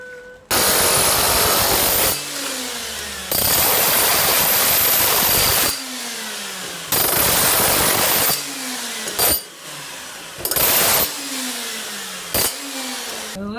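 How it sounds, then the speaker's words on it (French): A large heavy-duty drill with an oversized bit bores into material on a construction site, running in loud roaring bursts broken by short pauses and falling whines as the motor spins down. "Ça, c'est pas une perceuse normale."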